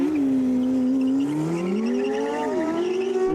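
McLaren P1, Porsche 918 and LaFerrari hypercars launching together under launch control in a drag race, loud engines rising sharply in pitch through the gears with a brief dip at a shift, and tyre noise underneath.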